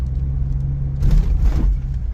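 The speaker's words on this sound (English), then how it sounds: "All you hear is the tires going bump, bump." Toyota Land Cruiser FZJ80 with Old Man Emu suspension and lowered tire pressure rolling over a speed bump, heard as a low rumbling drive with a soft double thump midway.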